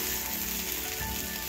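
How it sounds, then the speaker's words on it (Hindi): Food fries in oil in a pan with a constant, close sizzle and crackle throughout, with no talking. "थोड़ा तेल भी डालेंगे क्योंकि अच्छा पकता है और टेस्ट भी अच्छा आता है"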